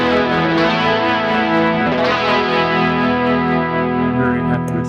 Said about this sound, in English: The harmonic tremolo for those interested.